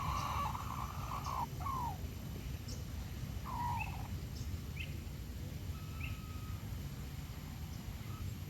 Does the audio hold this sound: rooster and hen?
yes